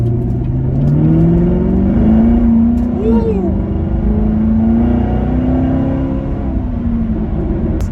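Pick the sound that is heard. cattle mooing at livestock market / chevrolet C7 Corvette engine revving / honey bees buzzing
chevrolet C7 Corvette engine revving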